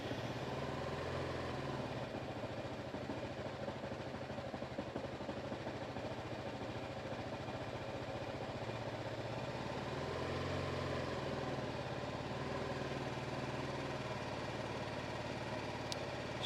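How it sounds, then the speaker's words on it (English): A BMW G310R motorcycle engine idles roughly, a continuous low, uneven mechanical thrum heard close and fairly quiet, with no one talking. "So you can see from the way it's idling, it's not particularly smooth."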